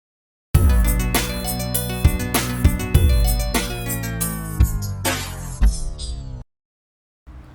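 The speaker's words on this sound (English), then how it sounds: "This would probably be appropriately called the turntable wind down effect." A simple electronic drum beat plays with punchy kicks and bright hits, then slows and drops in pitch as a turntable wind-down effect drags it to a stop, followed by a brief silence and a short tail.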